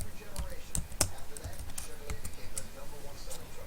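Keys clatter on a computer keyboard as a command is typed during 3D modeling work, a few quick clicks in a short burst heard up close over a low room hum.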